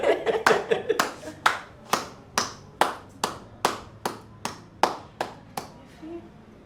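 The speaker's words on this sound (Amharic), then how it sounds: "ጭብጨባ የሚያስፈልጋቸዋል ብዬ ነው።" Hands clap in a steady series of sharp, evenly spaced claps, fairly close and alone, over about a dozen beats with faint background room noise.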